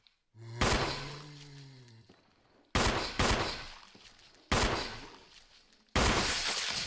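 Pistol shots from the Resident Evil: Invisible Enemy video game ring out four times at irregular spacing, each a loud sharp crack trailing into a brief echoing decay, with a short tonal game sound near the start.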